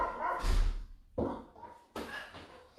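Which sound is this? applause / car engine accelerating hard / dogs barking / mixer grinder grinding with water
dogs barking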